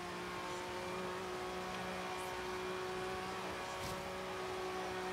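A racing car's engine drones steadily in Forza Horizon 3, holding a sustained, fairly constant tone throughout with little change in pitch.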